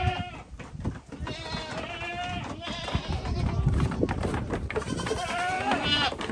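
Several Boer goats bleat close by in a pen, overlapping calls with a person talking underneath and rustling movement around them.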